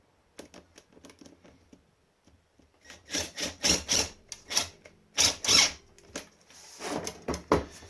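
Sharp scraping and ratcheting clicks from a screw being turned down onto a hacksaw blade with a washer, irregular bursts of close, bright friction noise after a quiet start.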